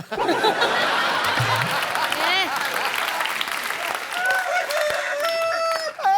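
A man imitates a rooster crowing on a comedy show stage, the voice rising and wavering in crow-like calls over loud applause and audience laughter, with further warbling vocal imitation near the end.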